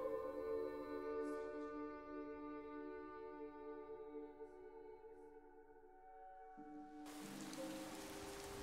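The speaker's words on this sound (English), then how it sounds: "Oh, it's raining." Steady rain falls in Skyrim, a continuous soft patter layered under sustained low tonal game music and drones, with no voices, the wash shifting brighter near the end.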